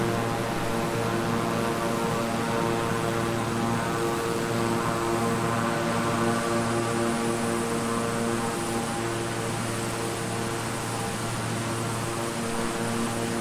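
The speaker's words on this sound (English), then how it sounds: "This must be another airplane, maybe a real flight." A Beechcraft 350 twin-turboprop engine drones in Microsoft Flight Simulator during a stormy flight, a loud, constant hum with a steady tonal whine and airy hiss, heard alone without speech.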